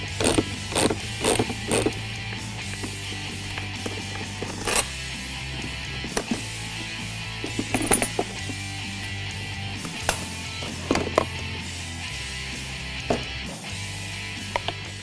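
Nuts being removed from a Ford Mustang EcoBoost air box, a series of sharp mechanical clicks and ratchet-like taps at irregular intervals over low background music.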